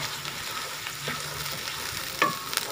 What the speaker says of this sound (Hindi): तो अब इसमें टमाटर और हरी मिर्च डाल देनी है। उसके बाद इसको मिक्स कर देना है।